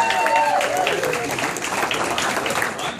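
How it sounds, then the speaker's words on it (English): A crowd at a polka show applauds steadily and loudly throughout, a dense wash of clapping with a brief voice at the start. "Say hello to Bill Shibilski one more time with a round of applause."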